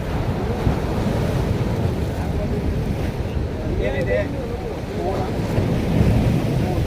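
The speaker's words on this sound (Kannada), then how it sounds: "ಇದು ಅರಬ್ಬಿ ಸಮುದ್ರ ಅದು ಇಂಡಿಯನ್ ಓಷನ್" Ocean waves and wind at Dhanushkodi beach on the Indian coast, a steady broadband wash of surf and wind noise running throughout, with faint voices briefly audible in the background.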